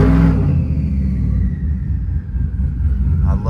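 Lifted Ram 1500 pickup with a Hemi V8 making 922 rear-wheel horsepower rumbling deeply at low revs while driving, a loud continuous throaty growl close by.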